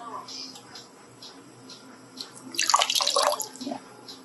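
A short pour of soy sauce into a homemade wonton soup base, heard as a brief splashing trickle of liquid partway through, with soft talking in the background.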